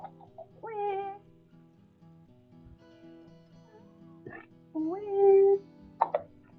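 A house cat named Miss Lady lets out two drawn-out, wailing meows a few seconds apart, close by, with small chirps and quiet room noise between them.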